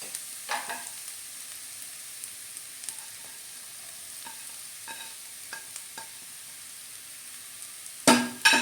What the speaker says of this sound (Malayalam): അപ്പോൾ നമുക്കിനി തേങ്ങ ഇട്ട് മിക്സ് ചെയ്യാം.